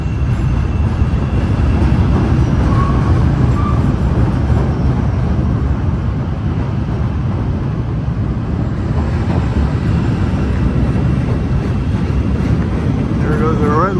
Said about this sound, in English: There goes a red line train heading from 95th Street, Van Ryn Expressway to Howard Avenue on the north side.